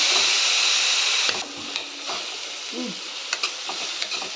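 Onions sizzle in a hot pan, a steady frying hiss with a few soft scraping stirs and light clinks, close and without talk.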